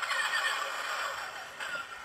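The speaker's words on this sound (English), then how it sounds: "Kind of some laser cannon fire." A Star Wars Royal Naboo Starship toy plays its laser cannon sound effect, a loud buzzing, zapping blaster-like burst that carries on steadily for a couple of seconds.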